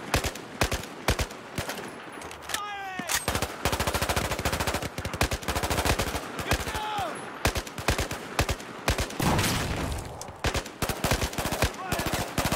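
Battlefield 4 gunfire crackles in dense rapid bursts of automatic fire, loud and close, nearly continuous with brief gaps and scattered in-game effects, and a player talks in between.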